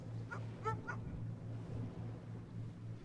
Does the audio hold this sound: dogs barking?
yes